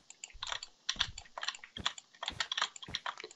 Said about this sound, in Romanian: Ah, și mă scuzați dacă mi se aude tastatura,